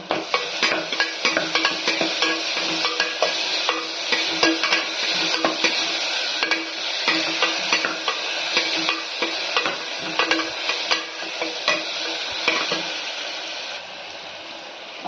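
Onions and tomatoes sizzle steadily in a hot pan while a utensil stirs and scrapes at irregular intervals, close and continuous with no talking.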